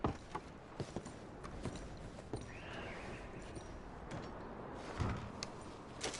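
Horses in Red Dead Redemption give off scattered hoof clops and shifting tack sounds over a low outdoor ambience, with a few sharper knocks standing out.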